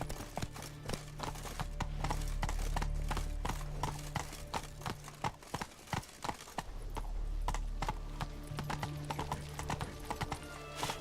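Roach the horse galloping in The Witcher 3, a rapid, steady clip-clop of hooves running close and loud throughout, with harness jingles and a short breathy snort.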